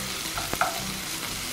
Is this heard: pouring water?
no